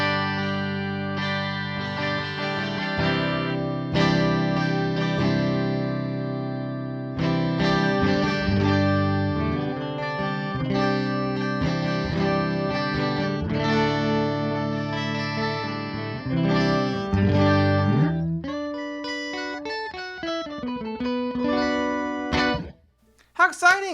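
Electric guitar run through a pitch-shifter pedal's doubling setting, imitating a jangly 12-string guitar, strummed chords ringing steadily for most of the take before thinner single notes and a sudden stop near the end, with no talk over it.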